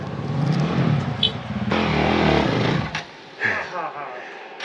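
Heavy motorcycle on Moab trails revving hard with the clutch slipping, a loud close engine roar that surges, cuts off near the three-second mark, then returns with shorter bursts while people talk over it.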